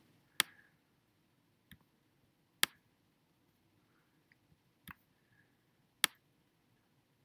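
Computer mouse clicks during graphic text editing, about five sharp isolated clicks spaced a second or two apart over a quiet room background, close and crisp.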